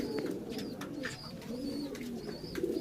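Golden Rampuri pigeons at a shop coo in repeated low, throaty rolls, several soft calls overlapping close by against a faint background murmur.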